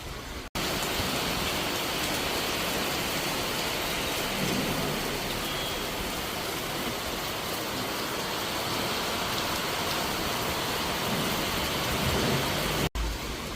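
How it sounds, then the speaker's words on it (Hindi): Heavy rain pours steadily outside a house, a dense unbroken hiss of drops on surfaces that stays loud and even throughout, with no clear thunderclap standing out. "अभी बहुत ज़्यादा बारिश बाहर हो रही है"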